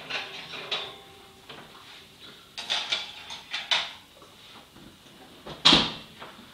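Trays of baked chocolate peanut butter cookies pulled from an oven, with a series of metallic clanks, rattles and an oven door knock, one sharp bang near the end, close and fairly quiet between.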